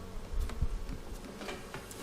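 Honey bees hum around an open backyard hive in a steady, dense buzz, with individual bees droning close past now and then.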